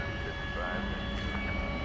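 Frontier Airbus A320neo jet, tail painted with a bighorn sheep, arriving at DFW from Los Angeles at night: a steady, moderate engine roar with a thin whine held across the whole clip, no separate events.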